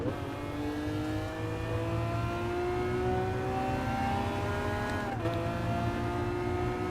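Race car in Gran Turismo Sport accelerating at high speed past 240 km/h. The engine whine climbs in steady rising pitch, briefly dips near the end as it shifts, then keeps pulling, loud and continuous with no talking.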